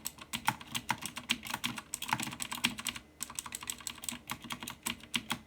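Rapid typing on a computer keyboard fitted with Razer metallic keycaps, a steady run of crisp clacking keystrokes with brief pauses, close and fairly quiet with no talking.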